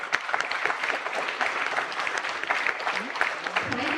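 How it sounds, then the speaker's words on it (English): An audience at a medical conference gives steady, moderately loud applause for the whole stretch, with scattered individual claps standing out and a faint voice near the end. "Let's recognize excellence with a well-deserved applause."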